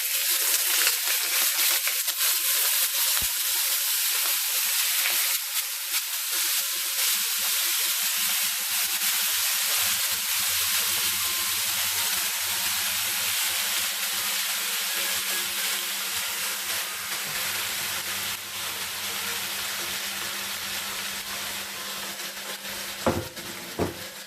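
Fatty cut of pork frying in a tablespoon of oil in a wok over high heat, a steady broadband sizzle and hiss that carries the whole time with a few faint clinks near the end, no voices.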